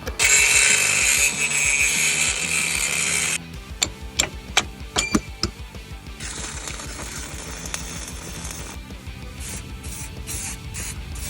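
Metal being cut on an RV slide-out frame during a factory repair: a loud, steady grinding whine for several seconds, then a run of sharp clanks and knocks, followed by the cutting tool starting up again.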